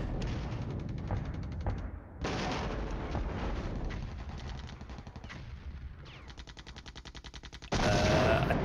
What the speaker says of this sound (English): That's the on-call artillery coming down, hitting the mechanized.